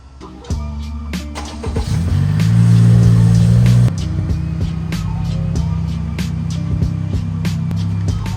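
A car starts rolling and is repositioned in a workspace, its engine rising to a louder drone for a moment before settling to a steady idle-like hum, close by, with scattered clicks and knocks.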